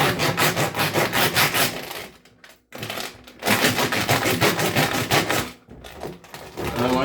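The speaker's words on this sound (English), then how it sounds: "I like to scrub the edges too." Soap-lathered paracord is scrubbed against a rough scrub brush, producing loud, close, rhythmic rasping strokes in bursts with a couple of short pauses between them.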